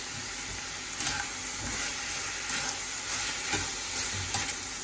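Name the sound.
curry leaves sizzling in hot oil with onions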